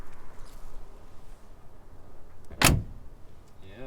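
The door of a Mercedes G63 AMG G-Wagon SUV shuts with a single solid, heavy thud near the end, following a quiet stretch of low background hum.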